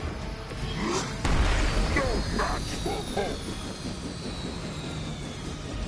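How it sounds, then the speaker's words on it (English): A helicopter in the video game Marvel's Midnight Suns drones with a continuous engine roar and a slowly shifting whine, under a player talking over the game action. "Stop the helicopter."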